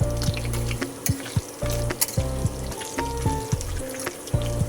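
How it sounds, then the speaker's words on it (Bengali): Two dried red chillies crackle in hot oil already fragrant with cardamom, cinnamon and cloves, a close steady sizzle broken by repeated bubbling bursts and sputters across the few seconds, no talk. "2 শুকনো লঙ্কাকে দিয়ে দিলাম, দিয়ে ভালো করে ভেজে নিলাম"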